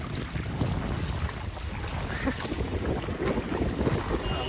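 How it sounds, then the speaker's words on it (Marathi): The flooded Krishna River rushes past near its confluence at Nrusinhwadi, a steady, rough roar of moving water mixed with wind noise on the microphone, moderately loud and continuous. "पाण्याचा आवाज पण तुम्हाला येईल."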